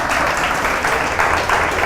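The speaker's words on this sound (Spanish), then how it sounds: "Denle un aplauso al Señor." Church congregation applauding during a Spanish-language worship service, a steady dense wash of clapping from a crowd that keeps going at an even level without a break.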